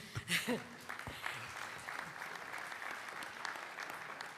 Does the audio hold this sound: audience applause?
yes